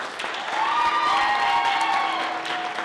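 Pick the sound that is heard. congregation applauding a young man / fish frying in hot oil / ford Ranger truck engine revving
congregation applauding a young man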